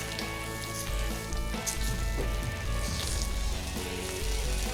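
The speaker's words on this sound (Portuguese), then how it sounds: "vamos virar o bacon aqui" Bacon sizzles and crackles steadily in a hot frying pan, a dense continuous hiss with scattered pops and no voices over it.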